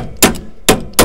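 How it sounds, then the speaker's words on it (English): A hammer strikes metal while camper fifth-wheel brakes are being worked on, three sharp close thunks in quick succession. "Hammer in."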